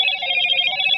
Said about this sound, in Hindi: phone phone phone